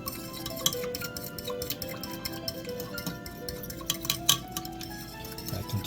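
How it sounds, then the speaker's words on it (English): A utensil stirs Myojo plant-based creamy tonkotsu instant ramen noodles in broth, giving quiet, scattered clinks and taps against the pot over a soft background hiss. "I continue to stir the broth. And the noodle."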